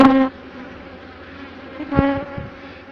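Honeybees drone steadily inside a beehive as they build wax comb on the frames, with a close buzz swelling near the start and again briefly later.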